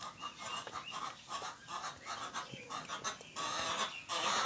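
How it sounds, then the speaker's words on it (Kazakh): Chickens and other birds calling outdoors, faint repeated clucks and chirps scattered across the clip at a distance, with no talk. "Сіздерге жан-жануарлардың, құстардың, тауықтардың дауысы естіліп жатса кешірім сұраймын."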